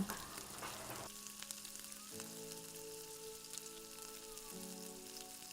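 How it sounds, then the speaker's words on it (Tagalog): Garlic sautés in hot cooking oil with a soft, steady sizzle and crackle, quiet and close, alongside faint tonal hums in the background. "So isute muna natin ang ating bawang."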